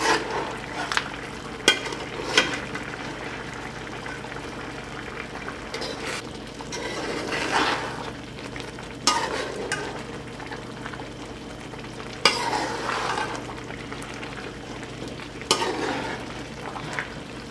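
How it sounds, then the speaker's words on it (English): Scraping and stirring rice in a frying pan for Cuban arroz con pollo, with intermittent clinks, over a steady background sizzle, close by. "And keep moving the rice away from the bottom."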